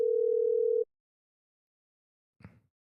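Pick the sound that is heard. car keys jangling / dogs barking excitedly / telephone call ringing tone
telephone call ringing tone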